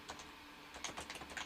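Quick bursts of keystrokes on a computer keyboard, close and fairly quiet, with a short irregular run of taps after a brief pause.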